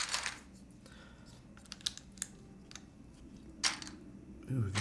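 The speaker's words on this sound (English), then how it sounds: "That is a soft typing experience." Clicky, irregular keystrokes on a newly built Class60 mechanical keyboard with a soft feel, a handful of sharper taps standing out against a quiet room; no speech.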